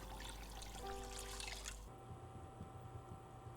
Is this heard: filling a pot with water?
yes